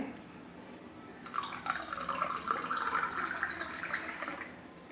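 Water runs steadily into a glass for mango squash, a close, continuous trickling pour that begins after a quiet second and carries on to the end.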